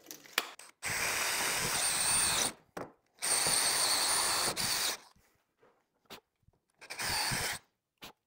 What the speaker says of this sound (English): whenever you are drilling this 1-inch hole